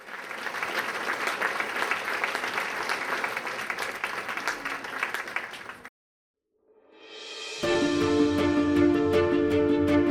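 Audience applause welcoming Congressman Dana Rohrabacher, a steady dense clapping from a crowd that cuts off abruptly, followed after a short silence by a different swell of ambient sound.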